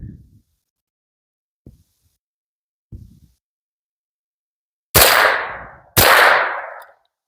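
An AR-15 rifle fires rare-caliber ammunition outdoors: after a few faint knocks, two loud sharp shots ring out about a second apart, each trailing a brief echo.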